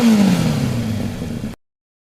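A Kawasaki ZX25R motorcycle with an aftermarket BJS exhaust revs while warming up. A loud, close engine note falls in pitch, then cuts off abruptly into silence.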